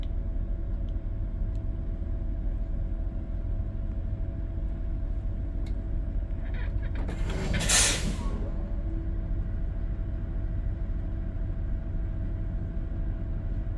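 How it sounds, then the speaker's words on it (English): A school bus's air brakes are applied during a dual air brake test, giving a single loud hiss of released air that rises sharply and fades within about a second over a steady low engine idle rumble. "waiting 5 to 10 seconds between each application until the bus governor cuts in"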